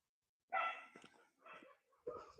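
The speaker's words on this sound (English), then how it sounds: "there's a lot of doggies shouting and screaming, as you can hear" Several dogs bark in a rural Russian area, a few sharp, fairly distant barks separated by short pauses, with no one speaking.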